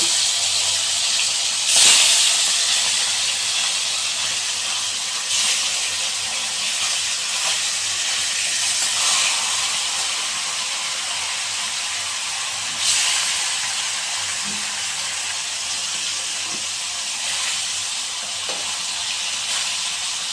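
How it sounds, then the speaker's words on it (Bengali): Small salted rohu fish fry in hot mustard oil in a kadai, giving a steady, continuous sizzle and hiss that runs unbroken throughout with no talking. "এখন মাছটা আমি একটু ভাজা করে নেব।"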